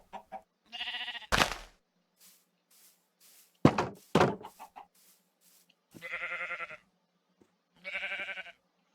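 Sheep bleating in Minecraft, several separate bleats with pauses between them, alongside a few short thunks. The bleats are moderately loud and close, with no talking over them.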